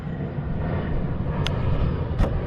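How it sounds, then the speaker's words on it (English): Airplane flying over a campsite, a steady broad rumble that holds level for a couple of seconds, heard from a distance and overhead, with no one talking. "as an airplane flies over."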